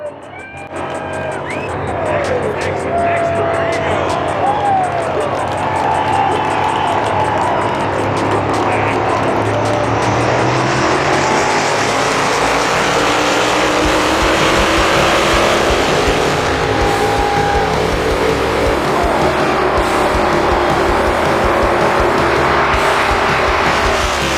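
Race cars revving and taking off at full throttle make a loud, continuous roar of engines. Sweeping rising and falling pitches and some tire squeal pass by close up.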